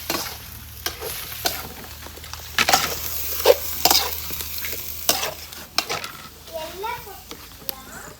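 Chicken masala curry being stirred and fried in a pan, with a steady sizzle and repeated scraping strokes of a spoon against the pan, while a person speaks intermittently over the cooking.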